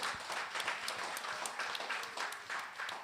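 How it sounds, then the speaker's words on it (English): Comedy club audience applauding fathers during a stand-up set at a Black cultural event, a steady wash of many hands clapping at a moderate distance, fairly quiet overall. "clap for the fathers"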